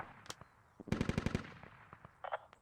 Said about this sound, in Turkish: Evet sıkıyorlar.